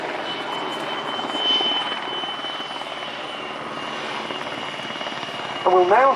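Czech air force camouflage Sokol helicopter flying a rescue display at an air show, steady rotor thump and turbine whine at moderate distance, with a commentator's voice over the loudspeaker and a short whistle near the end.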